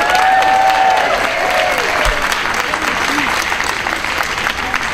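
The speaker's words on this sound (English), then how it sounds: "I'd like everyone to give a round of applause to the girls of Mercy Burlingame behind me" Applause from a crowd at an outdoor rally calling to pass the Equal Rights Amendment, loud continuous clapping with cheering voices and shouts rising over it throughout.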